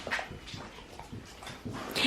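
A Rottweiler dog whimpers indoors in short, repeated whiny yelps and soft breaths, close by and fairly loud, with no talking over it.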